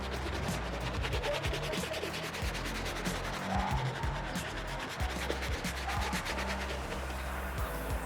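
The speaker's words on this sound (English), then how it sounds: "to clean it as well using the hard bristle brush" A hard bristle brush scrubs a sneaker upper in quick, close back-and-forth strokes, a continuous dense rasping rhythm that keeps going without pause and without talk.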